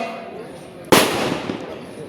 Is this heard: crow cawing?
no